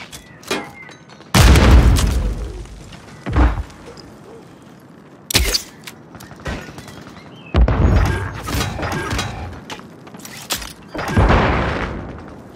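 Grenade blasts in a shooter video game, several loud booming explosions with sharp onsets and noisy decays, spaced irregularly among quieter gunfire and background battle noise.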